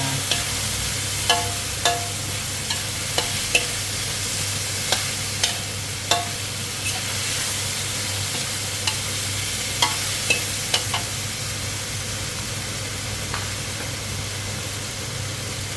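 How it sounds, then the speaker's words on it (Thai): Straw mushrooms and squid stir-frying for a spicy basil dish: a steady low sizzle in a pan runs throughout, broken by repeated clicks and scrapes of stirring at an uneven pace, close and alone without talk. "แล้วก็ผัดก่อนค่ะ"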